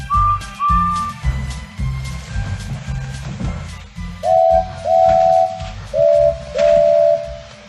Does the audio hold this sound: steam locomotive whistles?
yes